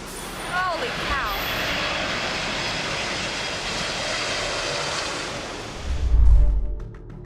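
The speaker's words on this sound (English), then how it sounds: "It's footage taken from Kowloon City, Hong Kong, as the planes pass over the buildings." An airliner passes low over Kowloon City buildings in Hong Kong, a loud, broad jet roar that holds steady for several seconds before a deep rumble swells at the end, with brief chirps near the start.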